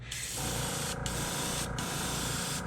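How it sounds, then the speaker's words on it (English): A steady hiss of an airbrush spraying paint at about 25 psi onto a lipless crankbait lure, close and continuous, with a couple of brief breaks in the high airflow. "now I'm spraying at about 25"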